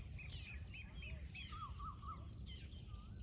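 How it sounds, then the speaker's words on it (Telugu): Distant birds sing in an outdoor nature setting, faint warbling and chirping phrases scattered over a steady background hiss. "దూరంగా వినబడుతున్న పక్షుల సౌండ్ని"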